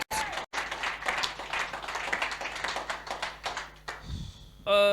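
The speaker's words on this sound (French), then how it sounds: "Clap for the Lord." A church congregation claps together in worship, with dense, sustained applause that fills the room and continues steadily, with voices mixed in.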